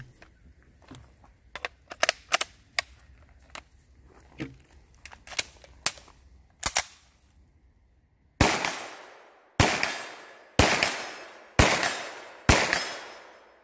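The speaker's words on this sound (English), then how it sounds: "Quick accuracy test, shooting at 50 yards." Ruger PC Charger pistol fired at a 50-yard target, five loud sharp gunshots with ringing decay spaced about a second apart, preceded by scattered lighter clicks and handling noises.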